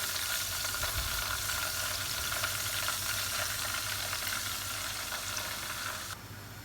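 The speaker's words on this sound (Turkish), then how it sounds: "Şöyle pilavın içinde yağ eriyor." Oil melting and sizzling in rice pilaf cooking in a pot on the stove, a steady faint hiss held throughout, with no voices.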